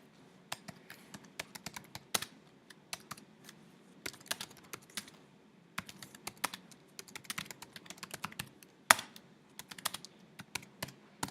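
Someone types a title on a computer keyboard: a quick, irregular run of close keystrokes with short pauses, quiet and alone with no voices.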